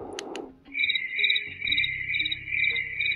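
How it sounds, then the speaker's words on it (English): Electronic cricket chirping from a B-Well ambient sound machine's nature setting, a steady high-pitched trill running continuously after a short burst of other sound at the start, clear and close with no talking. "with the birds chirping and crickets and stuff like that"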